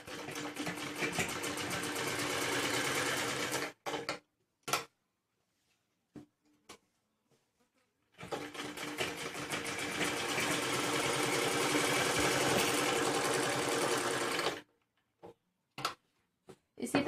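A sewing machine stitches a back neck design on a garment in two long continuous runs, steady and close, each stopping abruptly, with short clicks and pauses between them.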